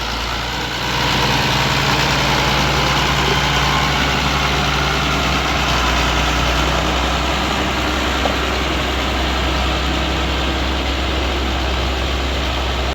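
Farm machine's engine, freshly cleaned of a dirty, overheating radiator, starting up and running steadily at a loud, constant idle with a deep rumble, close by and alone.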